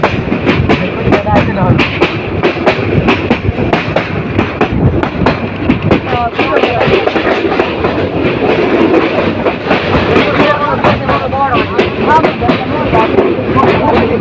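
Kishorganj Express train pulling away from a station, with loud, continuous clickety-clack of wheels over rail joints and rumbling carriages up close throughout.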